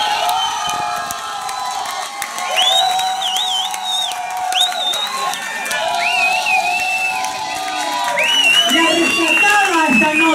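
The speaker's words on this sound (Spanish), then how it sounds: "Aplausos entonces para la señorita Micaela Calaca." A studio audience claps and cheers for a contestant at a drag diva show, with loud whoops and shouts swelling over sustained applause and a host's voice speaking through it.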